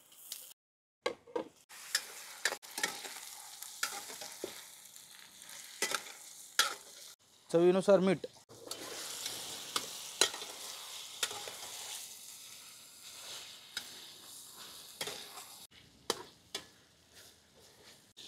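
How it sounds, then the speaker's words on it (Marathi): Chicken pieces are stirred and fried with half-browned onions in a pan for village-style methi chicken. A quiet sizzle runs beneath sharp, intermittent spatula scrapes and taps, with a brief spoken phrase partway through. "आता आपण याच्यामध्ये चिकन फ्राय करून घेऊ"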